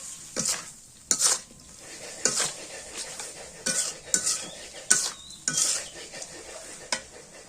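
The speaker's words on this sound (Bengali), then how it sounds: "আগে এটা নাড়াচাড়া করে দিই" Beef tripe and liver curry stirred in a pot over a clay stove, a rhythmic series of about a dozen scraping strokes against the pot with a faint simmering sizzle beneath.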